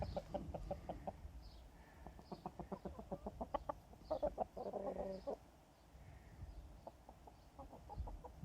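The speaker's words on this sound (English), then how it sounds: "This multicoloured cockerel is called Dave" Several chickens, including a cockerel and hens, cluck in short, repeated bursts, close by, with a louder squawk partway through and soft background noise throughout.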